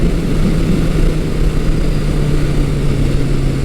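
Yamaha XS1100 classic motorcycle engine running at a steady idle, a continuous low droning rumble that stays loud and even throughout with no other sounds.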